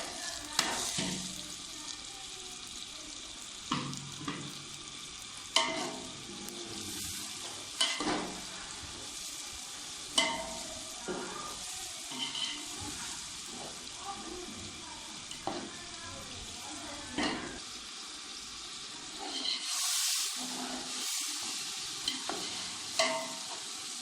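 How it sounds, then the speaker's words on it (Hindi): Onions with ginger-garlic paste frying and being stirred in a pan, a steady sizzle punctuated by repeated scraping stir strokes, with a louder hissing burst near the end and no talking. "प्याज लहसुन अदरक हमारा फ्राई हो चुका है"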